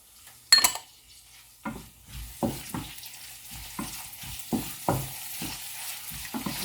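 Curry leaves fry quietly in a pan with a broccoli and dried shrimp dish, broken by a series of sharp, close scraping stirs spaced every second or so.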